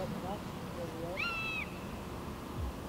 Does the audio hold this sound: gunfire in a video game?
no